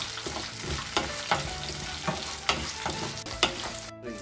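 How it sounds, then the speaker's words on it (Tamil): Dried turkey berries fry in oil while a spoon stirs them, a close, steady sizzle broken by regular scraping knocks about every half second. "சுண்டக்காய் வத்தலை சேர்த்துட்டு இந்த எண்ணெயிலேயே நல்லா வதக்கணும்"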